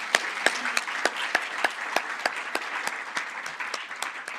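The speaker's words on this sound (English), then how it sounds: "Applause, yes." An audience at a plenary session on fair districts breaks into sustained applause, dense steady clapping from a roomful of people with a few sharper individual claps standing out, loud and continuous throughout.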